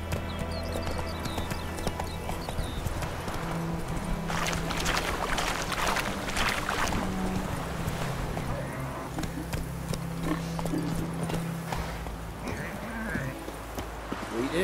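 Horse trotting in the video game The Witcher 3, with rhythmic clip-clop hoofbeats running throughout under ambient game sound. A brief voice can be heard.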